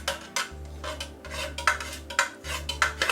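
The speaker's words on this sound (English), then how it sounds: "So I've got a nice little mixture there. Mix it around a bit." Cake batter for a mulled wine cake stirred in a bowl, a steady run of scraping, knocking strokes against the bowl with a low hum underneath, close and fairly quiet, no talking.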